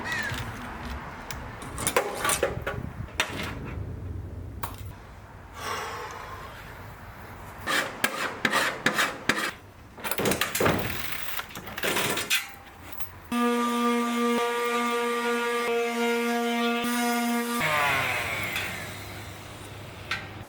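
Aluminum angle, 3/4 inch by 1/8 inch thick, is cut on a vintage camper baggage door, with scraping and rasping strokes in irregular bursts, then a steady buzzing power-tool drone with a strong hum for several seconds.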